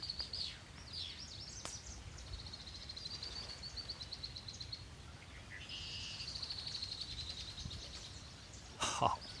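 Birds chirp outdoors at a campsite, with thin high calls and trills scattered over quiet background air, and a louder call near the end.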